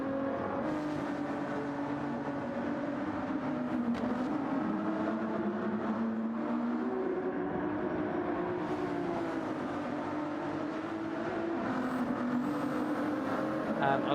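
A Ferrari race car engine in Gran Turismo 7 at Circuit de Spa-Francorchamps during a 12-hour endurance race, a continuous droning note wavering in pitch as it runs on track, steady and fairly loud for the whole stretch.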